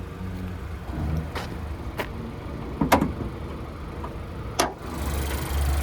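Hood of a 2023 Nissan Sentra SV with a 2.0-liter four-cylinder being opened, with several sharp clunks and latch clicks over steady low background rumble, close by.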